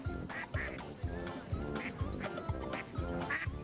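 Ducks quack repeatedly in short, rhythmic bursts, close and clear, with several calls overlapping across a few seconds.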